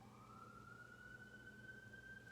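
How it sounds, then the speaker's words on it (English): An emergency siren passes outside, heard as a faint, distant rising wail that holds steady over low background rumble. "I hear a siren."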